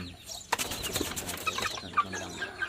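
Chickens, including black ones, cluck and chatter in a busy barnyard, with scattered short calls over a steady rustling background.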